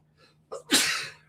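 A single sharp sneeze bursts out after a brief intake of breath, close and clear in a quiet room, with no talk over it.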